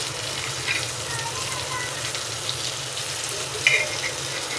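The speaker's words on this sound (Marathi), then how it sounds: "खालची बाजू सुद्धा आपण त्याच प्रकारे फ्राय करून घेऊया" Mandeli fish frying in oil in a pan, a steady close sizzle with soft crackles, brightening briefly as the fish are flipped over.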